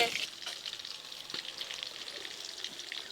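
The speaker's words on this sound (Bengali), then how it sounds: "ওদিকে পপি মাছের পেটি ভাজছে" Pieces of fish belly crackle and sizzle steadily in hot oil for a home-style Bengali meal, a close, continuous frying hiss with occasional light pops and no voices.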